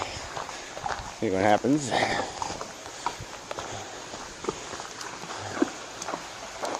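A horse's hooves clop near water on a crowded day while the animal panics a little, a short burst of steps under people talking.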